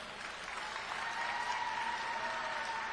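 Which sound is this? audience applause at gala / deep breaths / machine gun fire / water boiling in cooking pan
audience applause at gala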